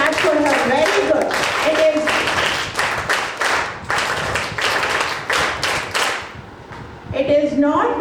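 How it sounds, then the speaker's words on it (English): An audience claps steadily for several seconds in a leadership session, a dense burst of applause that fades near the end before a voice speaks. "Clap for her, clap for her."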